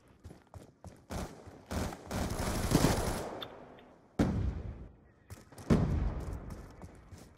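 Bursts of automatic gunfire in a team deathmatch video game, several loud rapid volleys with short gaps between them and no speech.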